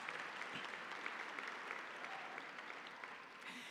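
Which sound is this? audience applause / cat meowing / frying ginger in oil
audience applause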